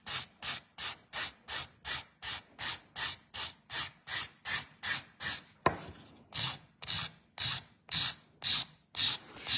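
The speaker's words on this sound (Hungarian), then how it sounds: "És most egy picit a felületet is meg fogom reszelni." A nail file rasps across the surface of a fingernail during a festive glittery French manicure, repeating in steady back-and-forth strokes about twice a second, close and fairly loud, with a brief pause midway.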